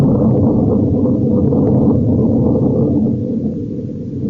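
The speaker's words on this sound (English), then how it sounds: "Now we know that thunder is coming." Thunder rumbles as a sound effect in an old-time radio drama, a deep, loud, continuous roll that fades slightly toward the end, with no talk over it.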